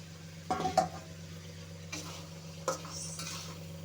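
Soybean chunks and potatoes are sautéed in oil with salt in a pan. A spatula scrapes and clinks in a few scattered strokes over a faint, low background sizzle, fairly quiet overall.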